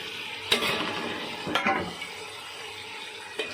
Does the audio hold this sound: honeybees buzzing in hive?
no